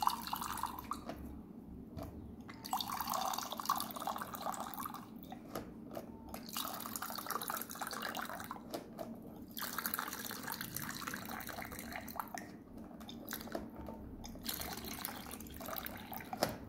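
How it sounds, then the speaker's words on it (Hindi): Water runs from the tap of a Milton Thermosteel beverage dispenser, a steady dripping and trickling stream that swells and eases in bursts over several seconds, close by with no talking. "ये प्रेस करके होल्ड करे तो आ रहा फुल पानी, छोड़ दिए तो कम आ रहा।"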